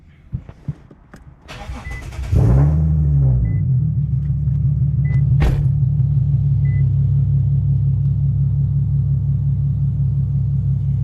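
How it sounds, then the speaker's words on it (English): An Infiniti Q50 engine cranks and catches after a few faint clicks, then settles into a steady, close idle rumble that runs on to the end. "we should be able to turn on the car"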